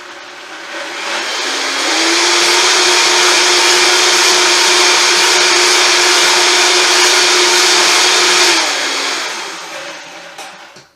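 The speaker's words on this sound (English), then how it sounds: "And then we're going to put it back on the blender for just a second." A blender making pesto whirs up to a steady, loud high-speed roar for several seconds, then winds down and stops.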